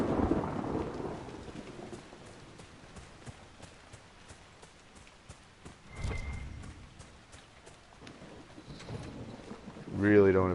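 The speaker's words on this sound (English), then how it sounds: "Really don't appreciate lightning being hurled down at me while I'm running across the field." Thunder rumbling during a lightning storm with rain in the video game Dragon Age: Inquisition, low booms rising and fading over steady rainfall, with a louder crack near the end.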